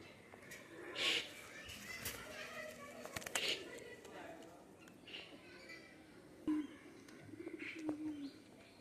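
Khulna pigeons, including golden and Teddy birds, coo softly in short low bursts amid scattered chirps and background chatter in a pigeon loft, the calls faint and intermittent.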